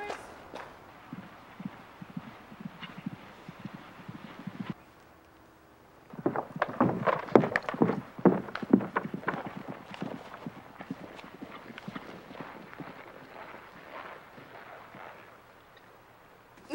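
Horse hooves clip-clop in uneven clusters, sparse at first, then after a brief pause turning into a denser, louder burst of clattering steps that gradually thins out.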